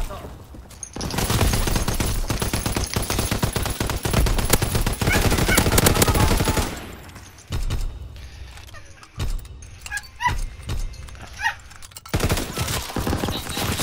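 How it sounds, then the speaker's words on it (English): Dense automatic and rapid gunfire from a Call of Duty: WWII multiplayer match, loud and sustained for several seconds before breaking into scattered single shots and bursts, with players talking over it. "I was below this gunfire."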